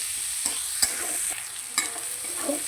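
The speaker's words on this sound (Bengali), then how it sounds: "পেঁয়াজ কুচিটা দিয়ে দেব পেঁয়াজটা ভালো করে ভেজে নেব" Chopped onion sizzles in hot oil in a pan, a soft steady fry broken by a few light stirring scrapes and clinks, close and fairly quiet.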